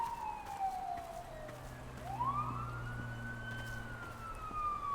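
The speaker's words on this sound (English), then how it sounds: "Sounds like an accident, or I don't know if that's a police or an ambulance." Police car or ambulance siren in a lawn mowing simulator game, a faint wailing tone that sweeps down and then rises again over a low steady hum of the mowing engine.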